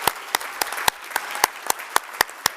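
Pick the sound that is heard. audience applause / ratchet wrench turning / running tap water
audience applause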